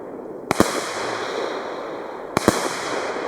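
Two sharp launch pops from a Cyber World Vortex 2 Tiger firework battery firing gold effects, each followed by a crackling hiss that fades, outdoors with no talking.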